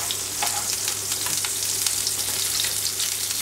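Margarine melting in a spoonful of oil in a frying pan, a dense continuous sizzle with crackling pops, close and fairly loud, no talking.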